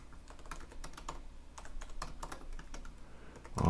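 Irregular bursts of close key clicks as code is typed on a computer keyboard, short runs of rapid taps with small pauses between, ending in a louder thump.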